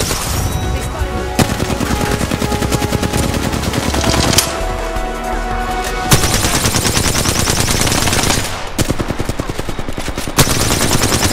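Sustained automatic weapon fire in the video game Apex Legends, loud and close, rattling in long bursts broken by short pauses, with no talk over it.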